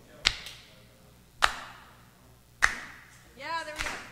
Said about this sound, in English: everyone clap along with me